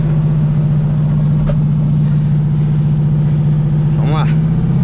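VW Beetle (Fusca) trail car engine running close and loud with a steady low drone, stuck in a small pond, as someone talks over it and a brief rising whine appears near the end.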